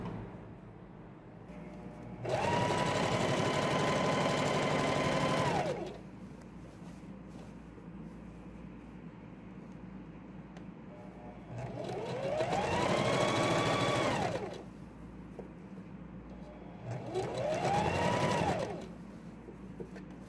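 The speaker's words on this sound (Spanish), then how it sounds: "Y vamos a pasar la costura por todo el contorno." A sewing machine zigzag-stitches around the edge of a girl's shorts in three loud bursts, the first about three seconds long, the later two shorter, each with a whining motor that rises and falls, separated by quiet pauses.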